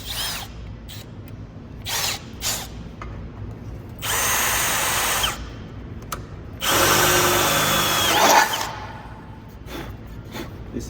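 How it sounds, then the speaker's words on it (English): Power drill boring into a center-punched metal part in an off-road truck shop, two long whining drilling passes with short bursts and pauses between, close and loud. "And then I'll drill it"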